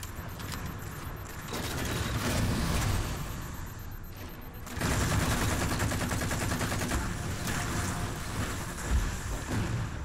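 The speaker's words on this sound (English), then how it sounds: "He was firing on me." Rapid bursts of video game gunfire in an online shooter match, a steady dense crackle of shots that runs continuously and gets louder after a short lull midway, with no talking over it.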